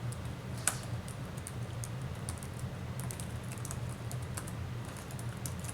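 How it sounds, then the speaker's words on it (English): Typing on a computer keyboard, a steady run of light, quick clicks at close range over a constant low hum, with no talking. "I'm going to type in purple"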